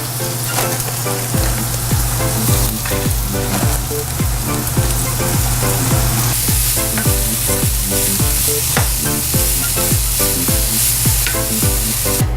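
Carrots frying in a pan with teriyaki sauce, a loud, steady sizzle with repeated stirring scrapes throughout, no talk.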